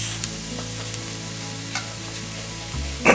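Flour stir-fries in a pan for a green soup, giving a steady close sizzle with faint scraping stirs and a louder clatter of utensil at the end.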